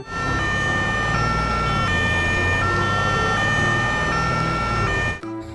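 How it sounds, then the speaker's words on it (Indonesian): A toy ambulance siren wails in a loud, continuous electronic tone that cycles through stepped pitches, close to the listener, and cuts off abruptly near the end. "Wow, mobil ambulans."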